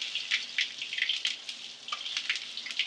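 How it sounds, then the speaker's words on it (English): Seed-crusted ahi tuna sears in a hot pan, a steady crackling sizzle with scattered sharper pops throughout, fairly close and alone with no talk. "you got some of your seed mixture toasting and getting seared all around"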